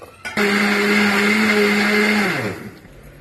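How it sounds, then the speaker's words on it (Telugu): A mixer grinder whirs loudly as it blends aloe vera cubes into gel, starting abruptly after a brief click, holding a steady high motor whine, then winding down in pitch as it stops. "ఇట్లా మిక్సీ పట్టంగానే ఇట్లా వచ్చేస్తుంది జెల్ లాగా వచ్చేస్తుంది"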